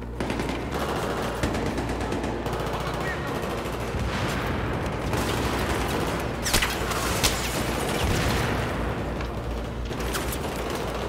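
Dense, continuous gunfire with rapid bursts and scattered booms, like a heavy firefight, loud and unbroken throughout, in Battlefield 3's campaign hotel mission.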